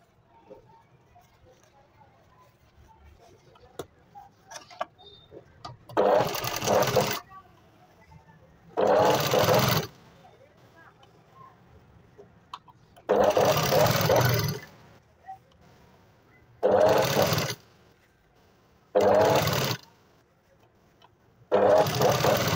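A sewing machine runs in several loud, close bursts, stitching a two-piece katori blouse, each run lasting a few seconds and separated by quiet pauses with faint handling noise.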